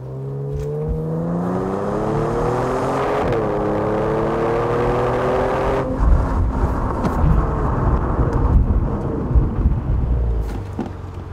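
A Genesis G70 with a 3.3-liter twin-turbo engine whirs loudly as its pitch winds down under braking, then gives way to a rough, rumbling road and tire roar.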